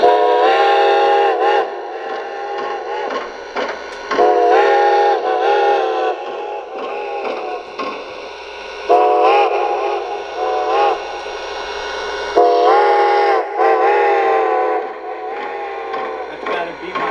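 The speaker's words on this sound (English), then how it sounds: "Let's hear that echo whistle again." A Decapod steam locomotive's echo whistle sounds in long repeated blasts with rich harmonic tones, several separate calls with pauses between, loud and close; a voice may speak briefly between blasts.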